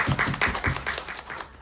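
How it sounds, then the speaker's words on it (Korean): Scattered clapping from an audience at a Korean short film screening Q&A, fairly soft and uneven, thinning out toward the end. "박수 부탁드리겠습니다"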